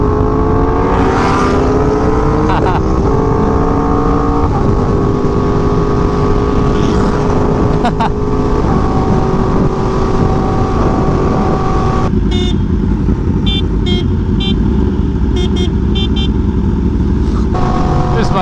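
Yamaha R1M sport motorcycle engine droning loudly and steadily while riding, with wind noise and a gear-change shift in tone partway through.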